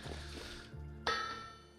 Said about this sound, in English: The town bell is being rung.